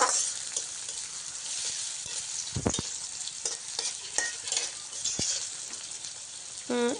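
Onion, chili and garlic fry in hot oil with a constant sizzle, broken by scraping stirs and a few sharp knocks of a utensil against the pan, close and without talk.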